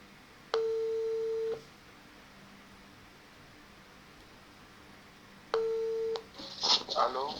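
Two bursts of a steady telephone ringback tone, each about a second long and separated by a gap, come from a phone call placed to a radio show listener. The second burst is followed by faint rustling noise.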